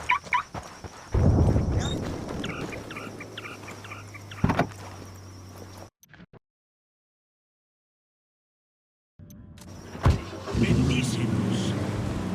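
In the video game Ghost Recon Wildlands, a vehicle pulls up with a nearby engine rumble and an electric window whirring. Voices talk over it, then everything cuts to silence before engine noise and speech come back.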